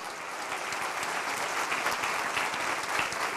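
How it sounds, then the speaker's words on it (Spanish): A church congregation applauds during a sermon, dense and fairly loud clapping that stays steady and unbroken from start to finish with no voice on top. "Démosle un aplauso al Señor."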